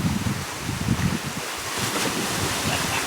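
Steady, broadband rush of water at a waterfall near Pai in northern Thailand, loud and close with gusty wind buffeting the microphone throughout and no talking.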